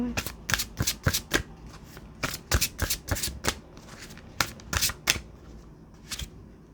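Tarot cards being shuffled close by in quick irregular bursts of crisp riffling and slapping, with no talk over them.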